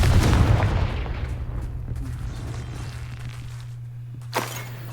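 A Confringo blasting spell explosion in the Hogwarts Legacy video game, a loud booming burst at the start that rumbles and decays over a few seconds, followed by a low steady hum and a sharp crack near the end.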